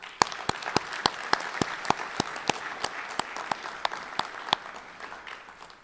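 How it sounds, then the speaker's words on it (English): A steady, slightly sparse round of clapping at a high school Veterans Day ceremony, sharp individual claps standing out over a softer bed of applause that gradually thins toward the end. "Please give them a round of applause."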